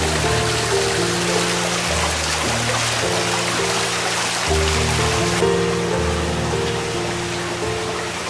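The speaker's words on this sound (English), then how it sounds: "and then there's a waterfall also." Garden waterfall splashing beside ornamental carp ponds at a house in Nong Khai, a steady loud rush of falling water with no let-up and no talk.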